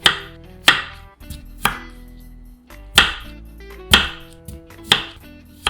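A knife halves baby potatoes on a cutting board in six sharp, close chops spaced about a second apart, each with a short ringing decay.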